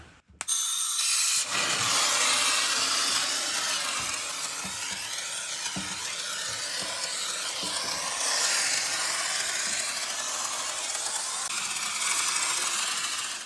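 DAP spray foam gun on its low setting hissing steadily as foam sprays, a continuous broadband hiss after a brief click at the start, close and unbroken with a few faint taps.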